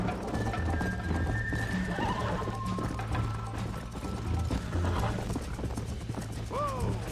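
A horse gallops in the video game Red Dead Redemption, steady rhythmic hoofbeats throughout with a couple of whinnies and faint game background sounds.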